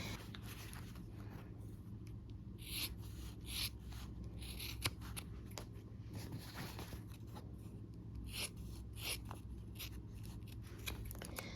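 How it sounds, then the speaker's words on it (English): Quiet, repeated snipping and rasping of scissors cutting through fabric, steady and close, with no talking. "I'm just doing it with the scissors."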